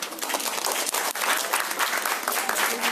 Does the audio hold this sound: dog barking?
no